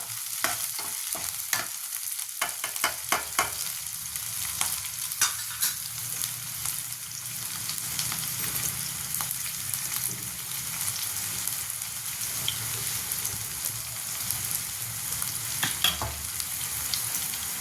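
Tempering spices sizzle and crackle steadily in hot oil on full flame, with sharp pops and occasional stirring clicks over a continuous frying hiss, close and fairly loud.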